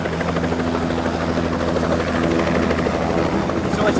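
A Bell 206L Long Ranger helicopter arriving at the Verticon helicopter expo, a steady loud rotor and turbine drone with a continuous rhythmic chop, close and unbroken.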